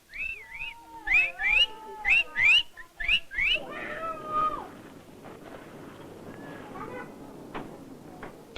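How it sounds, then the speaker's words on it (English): Girls whistling encouragement at a Vanuatu land dive ceremony: a run of about eight sharp, rising and falling whistles in quick rhythm, then a longer fading whistle over low outdoor murmur and faint background whistles. "Girls whistle their encouragement."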